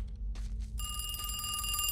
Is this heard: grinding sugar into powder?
no